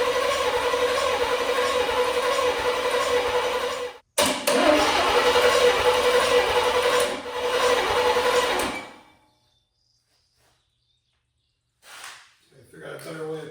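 A 1977 GMC K35 truck engine cranks and fires, running loud and steady with a brief cut near four seconds, then shuts off into near silence with a few faint sounds at the end.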